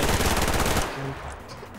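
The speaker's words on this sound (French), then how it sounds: "je me prends des balles dans la tête" Rapid automatic gunfire from a video game played on castle ramparts, a dense loud burst of shots for under a second, then cutting off into quieter game ambience.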